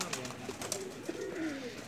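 Soft cooing of a Ferozpuri pigeon, a few low throaty phrases repeated over a steady background with faint rustling.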